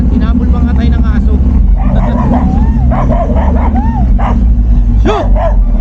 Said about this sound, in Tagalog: At tinapol pa nga tayo ng aso.